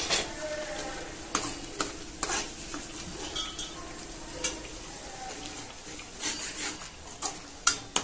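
Egg curry masala sautéing in hot oil in a pan, a steady low sizzle broken by repeated scraping strokes of a spoon stirring, with occasional sharp clinks of metal on the pan, close and fairly quiet.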